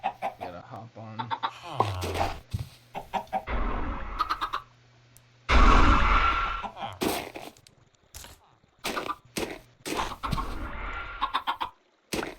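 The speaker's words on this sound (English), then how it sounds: "So, I'm chicken farming right now." Chickens cluck in short bursts in the RLcraft video game during chicken farming, with a few sharp clicks and thumps, while someone talks over the game sounds.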